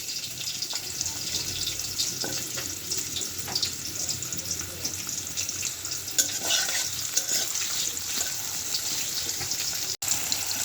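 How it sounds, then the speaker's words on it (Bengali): Potatoes frying in oil in a pan where snakehead fish was just fried, giving a steady broadband sizzle with light stirring scrapes and no talk. "আলু ভাজাটা হয়ে আসছে"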